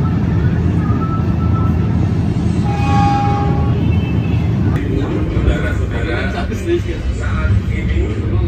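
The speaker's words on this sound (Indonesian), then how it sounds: "Pada pukul 19:24 kereta api Malabar diberangkatkan dari stasiun Cipeundeuy, lambat sekitaran 4 menit." The Malabar passenger train pulls out of Cipeundeuy station at night with a continuous loud low rumble and rolling noise, a brief tonal horn-like note rising near the start.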